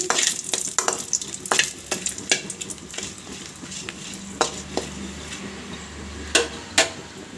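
Chilies frying in oil in a pan, a steady sizzle broken by sharp crackles and pops and a few clinks of a utensil against the pan, close and moderately loud with no talking.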